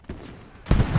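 A single loud, close gunshot burst in the WWII game Gates of Hell: Ostfront during a Stalingrad battle, fired after a quiet stretch and ringing briefly afterward.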